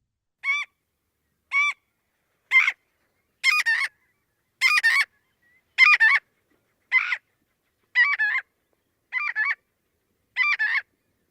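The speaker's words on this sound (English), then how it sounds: "you have this marbled godwit flying around you and screaming" A marbled godwit calling loudly and repeatedly, about ten harsh, nasal honking notes spaced roughly a second apart, clear and isolated with no other sounds.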